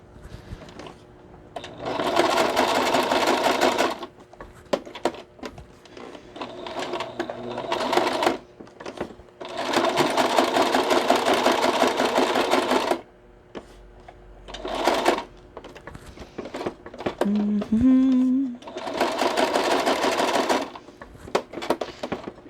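A sewing machine stitches through playing cards in several loud, rapid bursts of mechanical clatter separated by short pauses, with small clicks and handling noises between runs.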